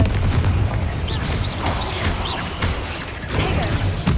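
Dense, booming blasts from Confringo, a fiery blasting spell in Hogwarts Legacy, pound continuously in a loud, crowded wash of impacts and crackle with faint high whistles threading through.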